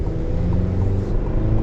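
A GMC Canyon AT4X pickup truck's turbocharged 4-cylinder engine droning steadily under load, a loud close-up rumble heard from inside the cab with no talking.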